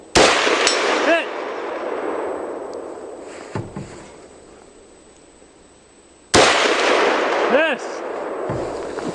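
Two loud, sharp rifle shots from a .308 AR at an outdoor shooting range, each followed by a long ringing echo that fades out, with a brief spoken word between them.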